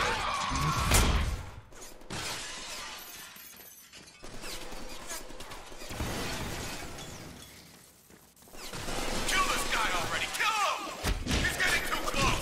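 Gunfire erupts in a Deadpool film action scene, with loud bursts and crashing impacts layered over a dense, booming soundtrack, easing briefly before surging again, with shouted voices mixed in.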